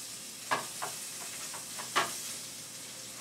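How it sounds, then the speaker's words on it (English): Beef frying in a pan after the grease is poured off, giving a faint, low sizzle with a few soft clicks and stirring taps scattered through it. "Now I can put my meat back in."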